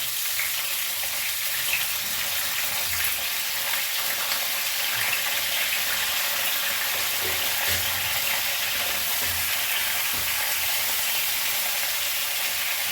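Tomatoes and fenugreek leaves cook in a pan for a chutney, giving a steady, even sizzling hiss throughout, close and moderately loud, with no talk.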